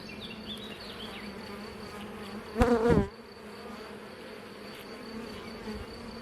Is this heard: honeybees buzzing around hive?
yes